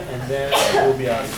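A single sharp sneeze bursts out in a classroom during a math lecture, briefly cutting across a teacher's ongoing speech.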